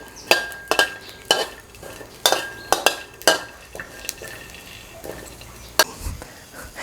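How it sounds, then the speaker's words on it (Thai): Sliced shallots and garlic dry-roasted in a pan for a green chili dip, heard as a series of sharp spatula scrapes and knocks against the pan at an uneven rhythm, with a faint sizzle underneath. "จะคั่วนะครับ หอมแดงครับ แล้วก็กระเทียมต่อเลยนะครับ ให้สุกหอมนะครับ"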